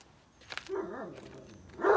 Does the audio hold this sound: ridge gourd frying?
no